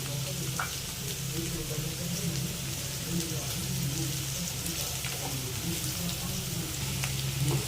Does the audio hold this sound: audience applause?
no